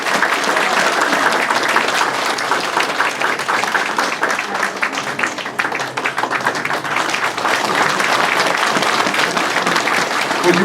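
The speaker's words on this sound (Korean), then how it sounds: "무병장수하시라고 박수 한번 쳐드리세요" An audience at a campaign office opening applauds a 94-year-old high school alumni association figure, sustained, loud, dense clapping from a packed room that keeps up for over ten seconds.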